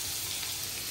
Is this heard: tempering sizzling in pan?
yes